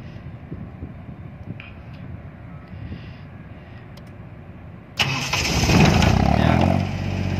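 A portable generator powering street lights starts at the push of a button: a low rumbling idle gives way to a sudden loud, broadband engine roar that holds steady and close for the last few seconds.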